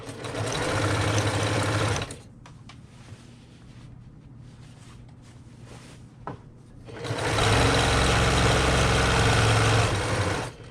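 A sewing machine stitches a tote bag in two loud, steady runs, first alone and then again after a quieter pause with a few small handling clicks, close up with no talking.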